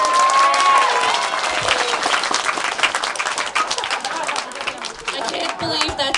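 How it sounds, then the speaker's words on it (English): An audience at a Homestuck fan panel at the MTAC 2013 convention applauds, with dense, steady clapping and some crowd chatter lasting around six seconds. "I think we should give this Frisco a round of applause."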